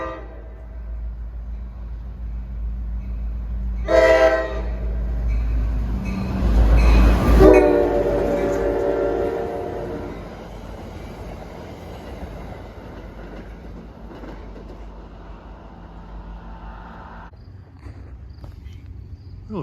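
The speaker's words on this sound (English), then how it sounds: "approaching Ramsey to 7:58 is train 1125, Hoboken Suffern." NJ Transit train 1125, Hoboken to Suffern, approaches Ramsey station with a loud horn blast and a heavy rumble that fades away, crickets chirping in the background.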